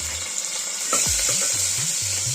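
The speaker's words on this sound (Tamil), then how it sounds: "எண்ணெய் காயவும் பச்சை மிளகாய் சேர்க்குறோம்" Green chillies fry in hot oil for a Tamil brinjal gravy: a steady bright sizzle runs throughout, with a few low clunks and scraping knocks from the pan midway, close and moderately loud, no talk.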